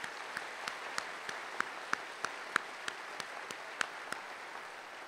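Faint, slow clapping at a police recruit graduation, individual claps spaced evenly and steadily over a few seconds in a quiet room.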